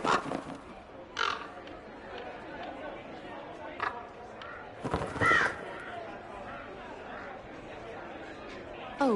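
Harsh crow-like caws sound in short bursts, several scattered calls near and loud, with people talking in between.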